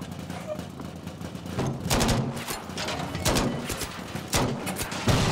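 Battlefield V gunfire, bursts of rapid shots and sharp cracks at mid distance over a game battle background, with voices talking intermittently.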